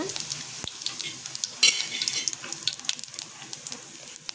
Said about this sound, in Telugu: ఇప్పుడు ఫస్ట్ ఎండుమిర్చి, జీలకర్ర వేసిన